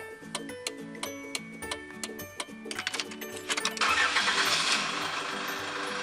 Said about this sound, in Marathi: engine on off